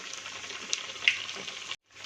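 Gujarati pigeon pea dhokla (tuver dhekra) fry in a pan with a steady bright close sizzle and a couple of sharper spits, cutting out briefly before the frying hiss resumes.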